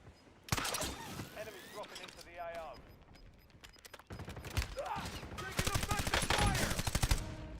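Bursts of enemy automatic gunfire crack in a video game firefight, loud volleys with quieter gaps, mixed with clicking mechanisms and a voice speaking partway through.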